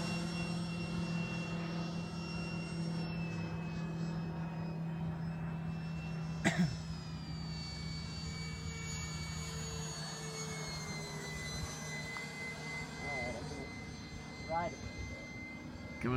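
Habu II RC jet plane on its maiden flight, a sustained ducted-fan jet roar whose pitch sweeps and shifts as it passes, steady and fairly distant, with brief people sounds.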